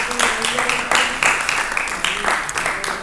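Listeners at a storytelling gathering in Arucas applaud after a reading, with steady clapping from a small crowd and a voice speaking over it.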